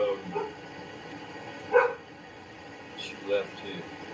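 Dogs barking at a home while police question a man about a search warrant, with two short barks rising over ongoing conversation, otherwise mostly people talking.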